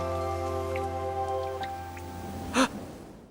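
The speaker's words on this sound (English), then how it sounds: "Tokyo is currently experiencing rain showers that seem to disrupt the usual pace of everyone living there to no end" Rain showers in the anime film Weathering with You set in Tokyo, a light patter of drops beneath sustained musical tones, with a brief breathy gasp-like burst near the end.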